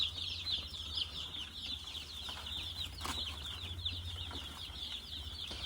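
Two hundred young meat chickens and 25 egg-laying chicks in an 8-by-8-foot brooder keep up a steady, busy chorus of high cheeps and clucks, with soft flutters and a low hum underneath.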